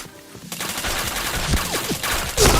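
Rapid gunfire crackles through a video game match where headshots are scored, loud bursts of shots following one another over a few seconds and ending in a sharper final blast.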